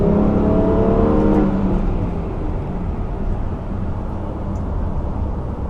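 A 2016 Subaru Legacy 3.6R's smooth six-cylinder boxer engine pulls hard with a rising tone, then settles into a steady whooshing drone of road and wind noise.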